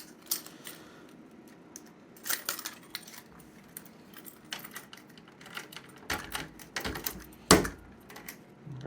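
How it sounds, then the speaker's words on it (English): Keys jangle and click while a pinball machine's coin door is closed and locked, a series of sharp metallic clinks and rattles, close and fairly quiet, with a louder clack near the end. "get the keys back out"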